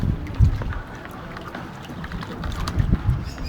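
Motorboat engine on flood water from a typhoon: a low, rumbling engine drone with wind noise and water splashing, steady with a few louder bumps, and a voice briefly under it.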